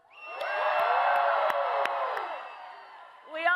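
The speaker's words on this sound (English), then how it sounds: "Can we please applaud Maná?" A large crowd at a Las Vegas campaign rally cheers and whoops loudly, a sustained roar of voices with sharp shouts that swells and then fades before a voice begins over the sound system.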